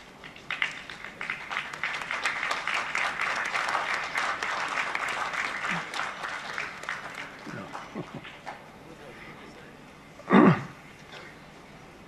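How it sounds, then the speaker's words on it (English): An audience gives a standing ovation at a graduation day ceremony. Steady applause fills the hall for several seconds, then fades, followed by a brief loud thump near the end. "The minimum we can do is to give him a standing ovation."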